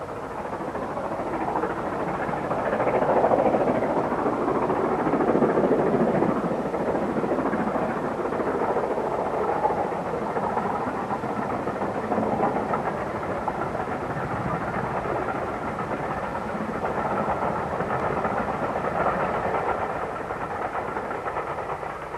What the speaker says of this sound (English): the Black 5, dwarfed by the lower slopes of Ben Durian, approaches the horseshoe curve